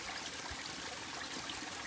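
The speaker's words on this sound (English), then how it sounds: "this portion of the trail looks like it's right along a waterfall" A waterfall and stream run beside a hiking trail in Madison Gulf, a steady faint rushing of water heard alone, with no voices.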